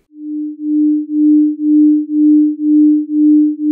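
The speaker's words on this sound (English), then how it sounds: "This phenomenon is called acoustic beats, and it occurs when we play two tones that are very close in frequency, and those sound waves interfere with each other." Two steady pure tones close in pitch interfere, making a single low hum that swells and fades in a slow, even pulse about twice per second, loud and alone.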